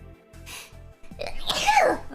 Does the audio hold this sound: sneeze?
yes